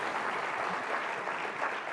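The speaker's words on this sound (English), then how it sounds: "another round of applause for Mike" Conference audience applauding Mike after his performance, a steady, dense wash of clapping from a crowd, fairly distant and even throughout the short stretch with no voices on top.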